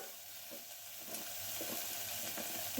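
Papaya pieces dropped into a hot pot of meat stew with carrot, potato and beet, giving a steady soft sizzle with faint stirring scrapes and no talk.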